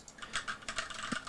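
Key clicks from an EYOOSO Z19 mechanical keyboard, a quick uneven run of crisp, moderately quiet clicks typed close up with no talking.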